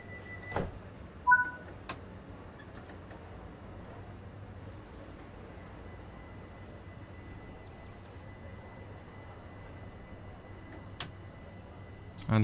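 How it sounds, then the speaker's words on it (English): Right-hand door on a class 378 train cab being shut: a short pair of warning beeps and a couple of brief thuds at the start, then a steady low cab hum, with another knock near the end. "Let's get that right-hand door shut."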